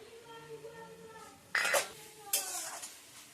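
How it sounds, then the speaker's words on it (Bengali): Tomato being stirred into vegetables in a cooking pan, two sharp metallic scrapes and clanks of a spoon against the pan, close and fairly loud, following a stretch of soft speech. "এবার এই টমেটোটা দিয়ে দেবো"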